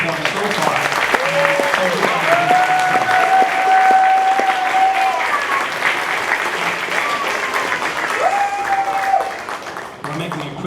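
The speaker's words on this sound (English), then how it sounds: "How about a round of applause for all of the kids that have performed so far?" Audience clapping for student jazz performers at an evening school concert, sustained and fairly loud, with scattered whistles and cheers mixed in before it tapers off near the end.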